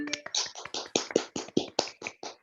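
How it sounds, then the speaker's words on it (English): An audience at an online government show-and-tell claps briefly, giving a quick, even run of close hand claps. "If we could have a big clap for both of them"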